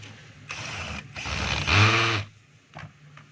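A screw being driven into the housing of a DeWalt DWE8200S 4-inch angle grinder, a close ratcheting, clicking mechanical run in a few short bursts, louder in the middle, with no talking.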